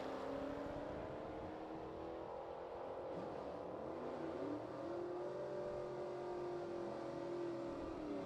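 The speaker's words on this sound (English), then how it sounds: "Dunn, the 1968 Chevelle in white. Really super nice, clean car there. And John Salley, 17 model year SRT Hellcat Charger" A 1968 Chevelle and a 2017 SRT Hellcat Charger drag race, giving a continuous loud engine roar that rises and sweeps in pitch as the cars accelerate, with no talking over it.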